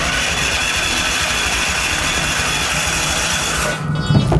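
A racing lawn mower engine runs loud and close with a steady rough drone, then falters and cuts out near the end, followed by a few clunks.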